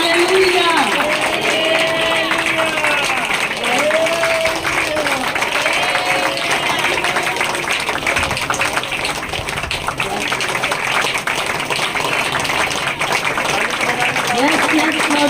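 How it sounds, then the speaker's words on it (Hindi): Dense, steady clapping from a congregation fills a church healing service throughout, with a raised voice chanting and calling out over the applause. "तालियां बजाते रहेंगे, तालियां बजाते रहेंगे, तालियां बजाएंगे"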